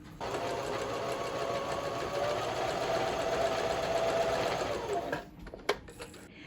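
Sewing machine sewing quilt pieces in one steady, close run of rapid stitching for about five seconds, then stopping, followed by a brief click.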